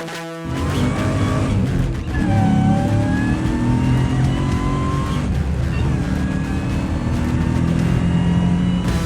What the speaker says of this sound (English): Those car sounds coming in from Devin. You know his car already. That is his supercharged 700 horsepower LS swapped Volvo 240.